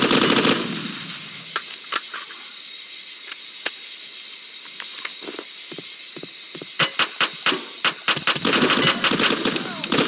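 Rapid bursts of automatic gunfire crack out in a game, clustered near the start and in a dense volley toward the end, with sparser single shots between, loud and close over a steady background hum.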